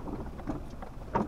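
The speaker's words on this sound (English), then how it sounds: "Ooh, that rain's really coming down." Heavy rain comes down steadily outdoors as a continuous, broadband wash of sound, with a few slightly louder patters near the end. It stays fairly soft and even throughout.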